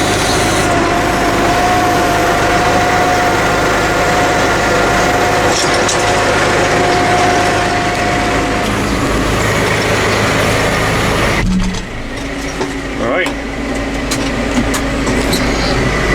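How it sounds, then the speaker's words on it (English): A tractor with a new mower runs in a field, making a loud, continuous engine rumble with mechanical whirring. The sound shifts abruptly partway through as the load or distance changes. "One man and his new mower went to mow a meadow."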